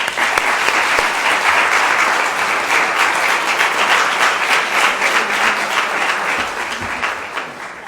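An audience at an HBCU honoree ceremony applauds a law school dean with loud, thick, continuous clapping that holds steady and then tapers slightly near the end.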